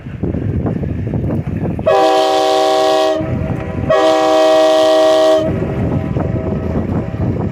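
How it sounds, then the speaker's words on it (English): A loud steam-style train whistle on the 1912 ELCO boat Chief Uncas sounds twice on the Susquehanna River, each blast about a second and a half long, over a steady rumble of engine and water noise. "blow our train whistle so you can hear what that sounds like"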